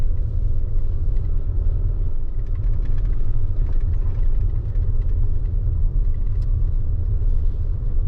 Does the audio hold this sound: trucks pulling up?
yes